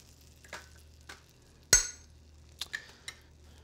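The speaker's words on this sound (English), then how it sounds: "Now I'm going to put a little bit of whole butter in here" Whole unsalted butter in a pan for asparagus, a soft sizzle under a low hum broken by sharp metallic clinks of a utensil against the pan, one loud clank midway and a few lighter taps after.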